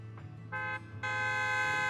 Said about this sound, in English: A loud honk echoes as several trucks with the Leaps and Bounds logo drive into an open area.